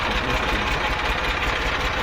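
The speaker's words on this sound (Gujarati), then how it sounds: "સોનાલિકા બીઆઈ સાતસો ચાલીસ મોડલના ટ્રેક્ટર છે" A 2006 Sonalika DI 740 tractor with a 42 hp company-fitted engine runs steadily, giving a continuous, even mechanical drone at close range.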